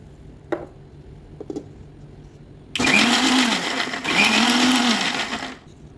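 After a couple of light clicks, a blender roars loudly for several seconds blending peeled almonds with water, briefly dips, then surges again before cutting off.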